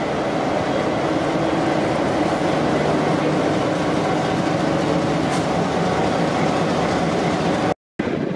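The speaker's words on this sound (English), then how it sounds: "It's my first time seeing a V-Line Mark 1 locomotive in service." A V/Line Mark 1 locomotive-hauled train in service rolls past with a steady, loud rumble and rattle that stays unbroken for about eight seconds, then cuts out abruptly near the end.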